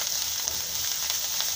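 Spices for a stuffed peas paratha tempering sizzle in hot oil in a pan, a steady, close frying hiss with small crackles, alone without talk.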